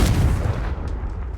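A Confringo spell blast in Hogwarts Legacy lands as a loud, boomy explosive burst that trails off into a rumbling decay with faint sparkling tails.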